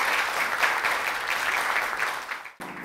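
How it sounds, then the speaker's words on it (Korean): Steady applause from an audience at a 2021 Yonsei University award ceremony as the university president is welcomed to the stage, even and sustained before stopping abruptly near the end. "박수로 맞아주시기 바랍니다."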